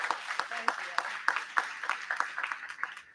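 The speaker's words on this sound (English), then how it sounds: "So let's applaud Trustee Herrera" Sparse, scattered clapping from a small audience at a school board meeting honouring a trustee, individual claps distinct and fairly quiet, with a voice briefly audible.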